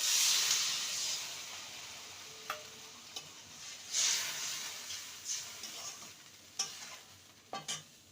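Water is added to a hot pan of potatoes cooked down with spices for raw banana fulori, giving a loud hissing sizzle at first that fades into softer bubbling, with a few sharp clinks and stirring knocks.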